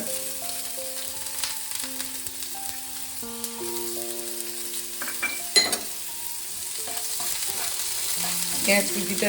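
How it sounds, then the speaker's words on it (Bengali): Chopped onion fries in a hot frying pan with a continuous close sizzle, broken by a few clinks and scrapes of a utensil against the pan and some faint tonal background sounds. "ফ্রাইং প্যানটা গরম হয়ে গেছে, এবার আমি এতে দিয়ে দেবো পেঁয়াজ কুচিটা"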